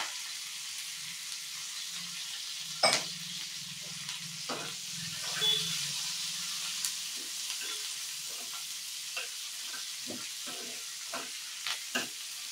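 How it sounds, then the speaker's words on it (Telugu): A steady hiss of ginger and green chillies sizzling in oil in a pan, broken by occasional scrapes and taps of a spoon stirring, close and fairly quiet. "అల్లం పచ్చిమిర్చి కూడా బాగా వేగాలి"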